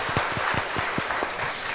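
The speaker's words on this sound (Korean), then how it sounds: "박수를 한번 일단 쳐주시는" Audience applause at a parents' talk concert, a short, fairly faint patter of scattered claps from a small crowd.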